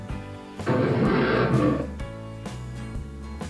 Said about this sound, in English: Here's a lion roar.